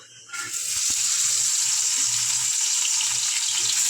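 Marinated pieces of rohu fish drop into hot oil and burst into a loud, steady sizzle, with a sharp onset after a brief quiet moment and a faint clink partway through.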